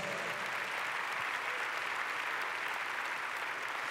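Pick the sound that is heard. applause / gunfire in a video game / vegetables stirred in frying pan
applause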